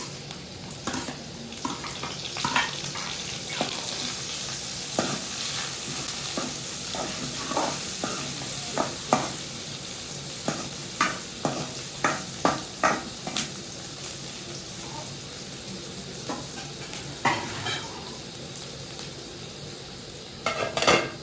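Green chillies sizzle and fry in a pan for egg curry, a continuous hiss broken by repeated scrapes and clinks of a spoon stirring against the pan, with no talking.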